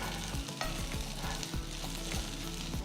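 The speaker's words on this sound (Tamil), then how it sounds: "ஸோ ஒரு 5 மினிட்ஸ் மீடியம் ஃப்ளேமில் நல்லா வதக்கிடுங்க." Garlic and shallots sauté in a pan over medium flame, giving a continuous close sizzle broken by rhythmic scraping stirs roughly every half second, with no voices.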